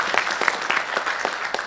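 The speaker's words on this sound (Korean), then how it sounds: "박수 좀 부탁드립니다" Audience applause at an 80th anniversary commemoration ceremony in Korea, brisk continuous clapping from a gathered crowd at moderate volume.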